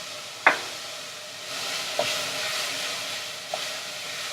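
Onions frying in a pot for vegan pumpkin soup, giving a soft steady sizzle with three sharp stirring knocks spread through the clip.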